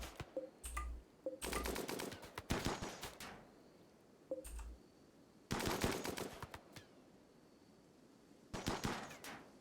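Gunfire strafing a mini turret in a Warhammer video game, with short bursts of rapid automatic shots separated by pauses, each burst crisp and loud.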